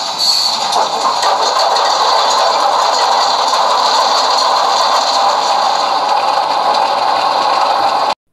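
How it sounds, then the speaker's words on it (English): A Rapido HO-scale Alco PA model locomotive plays its startup sound, an Alco 244 16-cylinder prime mover, as a steady, loud, continuous diesel rumble and clatter for about eight seconds, with no talking. "that Alco 244 16-cylinder prime mover sounds incredible"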